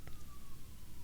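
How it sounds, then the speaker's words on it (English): A fire truck siren wails faintly in the distance, a thin wavering tone fading away beneath quiet background noise. "That's a fire truck, right?"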